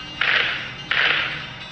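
A gunshot sound effect plays twice, each time a sharp, hissing crack that fades out, with a short gap between them.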